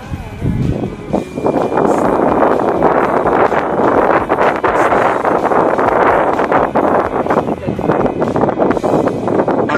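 Strong wind on a hilltop buffets the microphone in loud, roaring gusts that swell and ease without stopping, with a brief quieter moment near the start.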